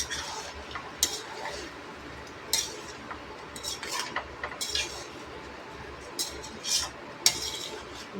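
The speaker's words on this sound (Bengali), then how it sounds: "ভালো করে নাড়তে হবে" A spoon stirring washed rice with salt, ginger-garlic paste and meat masala in a pot for fish pilaf, with sparse metallic clinks and scrapes ringing out at irregular intervals over a soft background.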